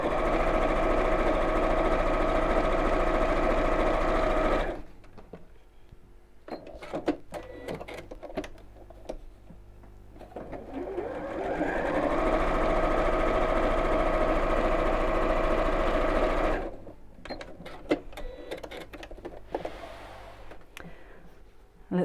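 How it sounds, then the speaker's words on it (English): A sewing machine stitches a straight seam across the bottom of a child's backpack in two steady, even-running bursts of several seconds each, with quiet fabric handling in the pauses between them. "I'm going to sew straight across the bottom as well"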